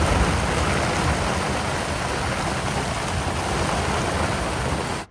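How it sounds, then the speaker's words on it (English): Steady heavy rain pours onto a camping tent during a swamp turkey hunting trip, making a dense, even hiss that runs unbroken before cutting off abruptly at the end. "waiting for the rain to stop"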